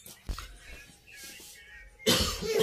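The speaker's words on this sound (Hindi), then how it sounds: "देखो इनको खांसी आ रही" A person with a cold lets out a short cough, then a second, louder cough burst about two seconds later. Both are close and clear over a quiet indoor background.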